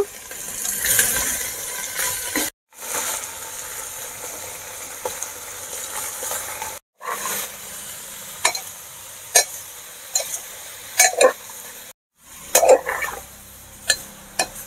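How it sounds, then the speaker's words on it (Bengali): Mutton chusta frying with onions in a pan, bursts of sizzling broken by short silences, with metal spoon clinks and scrapes against the pan as it is stirred, close by and without talk. "পেঁয়াজে দেওয়ার পর কিছুটা নেড়ে নিলাম।"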